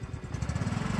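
A motorcycle engine runs close by, a rough, rapid chugging pulse with a throaty low rumble that steadies over about a second, with no talking.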